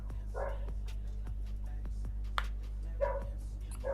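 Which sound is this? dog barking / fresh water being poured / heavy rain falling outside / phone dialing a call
dog barking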